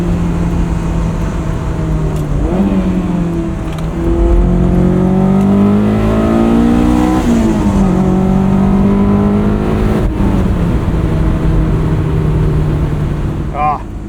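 A 2001 Honda S2000 sports car on Fortune Auto 510 coilovers pulls away from inside the cabin, its engine note climbing and falling through several gear changes in a loud, steady drone.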